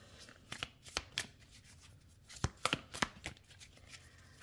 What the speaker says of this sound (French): Je remélange mon jeu.